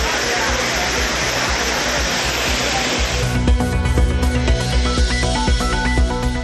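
The Courtallam Main Falls and Five Falls roar as a loud, steady broadband rush of falling water, which after a few seconds gives way to a musical bed with rhythmic tones.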